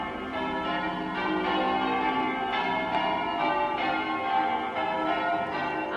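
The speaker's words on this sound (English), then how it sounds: "That sound means that 6 or 7 people have turned up to bell ringing practice" A church peal from bell ringing practice sounds as wedding bells ring out, a steady overlapping cascade of tolling bells heard at a moderate distance, unbroken and with no talking.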